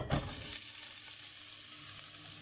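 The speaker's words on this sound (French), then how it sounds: "je vais venir rajouter dans notre huile de cuisson où il y a tous les sucres du bourguignon en coloré, nos légumes, et on va venir les faire sauter" Vegetables sautéing in cooking oil left from browning beef for bœuf bourguignon, a steady broadband sizzle with a brief stirring clatter at the start, close and continuous without any voices.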